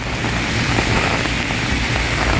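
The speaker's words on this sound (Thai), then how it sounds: "ตอนนี้ลมพัดแรงมากเลย" Strong wind buffets the microphone at an elevated train station, a loud, continuous roaring rush with no breaks and no voices.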